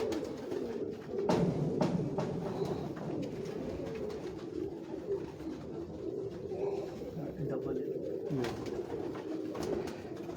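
Pigeons coo steadily on a Lahore rooftop, a continuous low burbling chorus heard up close, with someone talking over it at times.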